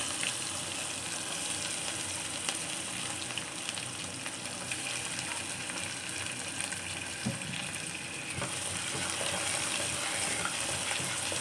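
Garlic, onion and dried red chilli fry in oil with mustard seeds and cumin for sambar, giving a continuous close crackling sizzle with occasional light pops and no talk.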